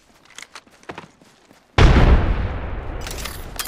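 Frag grenade detonating in Apex Legends, a sudden loud close boom after a few quiet scattered clicks, followed by a long rumbling, crackling decay that fades slowly.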